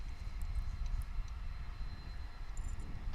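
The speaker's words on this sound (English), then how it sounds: "It'll be an Airbus A321." Airbus A321 jet at DFW International Airport, a steady low rumble of engine noise holding throughout at moderate loudness, distant and continuous with faint higher whine, no talk.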